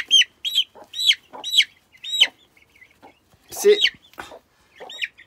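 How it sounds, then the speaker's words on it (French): A one-month-old rooster chick clucks and chirps repeatedly, a string of short, close, high-pitched calls with brief pauses, and a voice cuts in once midway. "C'est un coq."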